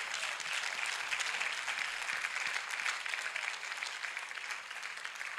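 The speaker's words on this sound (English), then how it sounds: "Let's give God a clap offering for his life." A church congregation at a prayer service applauds in a sustained, dense round of clapping that fades slightly toward the end.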